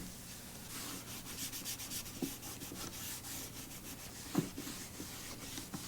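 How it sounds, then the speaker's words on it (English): A cloth rubs black gel wood stain into a wooden box, making soft repeated scrubbing strokes in an even rhythm, close and quiet, with a couple of small knocks. "I'm going to just add little touches of black gelled wood stain. and just rub it in randomly."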